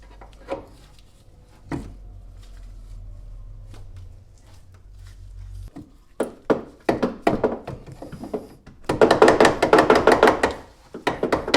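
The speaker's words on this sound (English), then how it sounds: "we'll grab the hammer from before and then just tap them into place" Hammer tapping control arms into place on a B5 Audi S4 suspension, a series of sharp metallic knocks, sparse at first then coming in quick clustered strikes, close by with some shop background noise.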